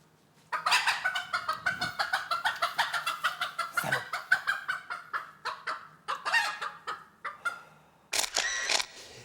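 Hens cluck in a rapid, steady series of sharp pulses close by for several seconds, pausing briefly near the end before a last burst, with no talk over them.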